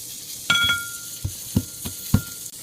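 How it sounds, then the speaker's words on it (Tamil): Pepper, cumin and garlic being crushed by hand: a few separate dull pounding knocks spaced irregularly, with a brief clink at the start, close and fairly quiet, no talking. "மிளகு, சீரகம், பூண்டையும் போட்டு நுணுக்கிக்கலாம்."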